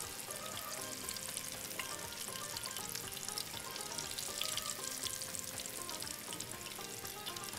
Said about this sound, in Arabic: وعلى العين الثانيه شغال الثوم مع البصل، وريحه الثوم بدات تظهر